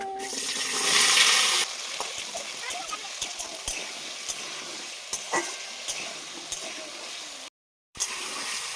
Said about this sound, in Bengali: প্রথমে আলুগুলো ভেজে নেব তো এবার তেলে দিয়ে দেব আলু